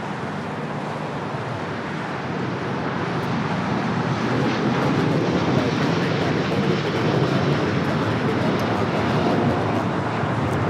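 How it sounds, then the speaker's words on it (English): An El Al Boeing 787-9 Dreamliner taking off at LAX, heard as a broad, steady jet roar that swells slightly and holds throughout, with no one speaking. "That is El Al, Flight 6, taking off to Tel Aviv on the 787-9 Dreamliner"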